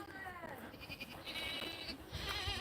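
Goats on a farm bleat in drawn-out wavering calls, close and fairly loud, with a voice talking over them.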